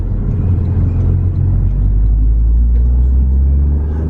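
A 2024 Toyota GR Corolla driving along a road toward a bypass, heard from inside the cabin as a loud, steady low engine and road rumble with no break.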